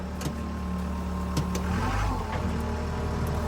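The engine of a heavy-duty forklift runs steadily as the machine drives, a close, continuous low rumble whose pitch drops and shifts partway through, with no talking.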